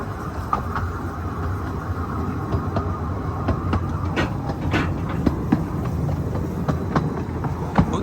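A diesel locomotive on the Ravenglass & Eskdale narrow-gauge railway rumbles steadily at close range, its wheels giving off intermittent clicks and clanks over the rails for the whole stretch.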